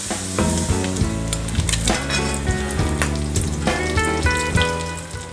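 Bacon frying in a pan as its grease renders down for chili, a steady loud sizzle and crackle with light clinks of stirring, close up.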